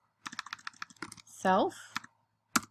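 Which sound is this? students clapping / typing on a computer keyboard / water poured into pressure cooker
typing on a computer keyboard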